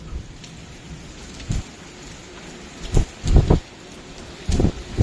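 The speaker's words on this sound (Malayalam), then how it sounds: "സുഹൃത്തുക്കൾ, നല്ല മഴ പെയ്തുകൊണ്ടിരിക്കണത്." Heavy rain pours steadily beside a flooding river, a constant close hiss broken by several sharp, loud low thumps and gusts that arrive in short clusters, with no voices.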